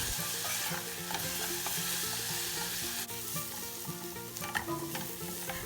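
Chopped onion seasoned with black pepper sautés in a pan, giving a steady, close sizzle with occasional stirring scrapes, and soft background music plays underneath throughout.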